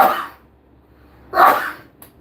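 Two sharp bursts, a sneeze followed by a second one, close and fairly loud, separated by a short pause.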